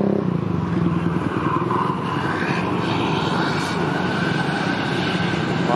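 A long, steady engine roar from an intercity AKAP bus pulling away from Ngadirejo terminal, loud and sustained throughout, with no talking.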